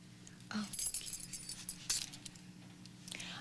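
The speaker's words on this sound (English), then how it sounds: "The keys, Dinah." A bunch of keys jingles briefly up close, a couple of light metallic rattles over a quiet room hum.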